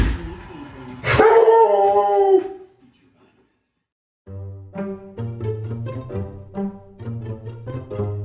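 A small dog howls in a loud, drawn-out rising wail, then after a short silence a run of lighter yips and whimpering howls follows, close to the listener.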